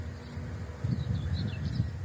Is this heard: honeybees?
yes